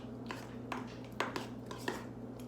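A spoon scrapes and clinks against a bowl while burger sauce is mixed from relish and ketchup, with scattered light taps over a steady low hum.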